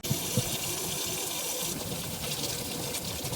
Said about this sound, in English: What's the first thing? Wash your hands.